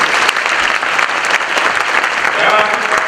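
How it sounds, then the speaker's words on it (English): An audience applauds a sales trainer after his presentation at a graduate sales training event, a dense, steady wash of many hands clapping at close range that continues without pause. "Let us give the mighty a round of applause"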